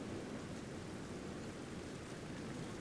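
Rain falls across a medieval battlefield in Medieval Total War, a steady, even hiss of downpour with no breaks and no voices, soft and continuous throughout.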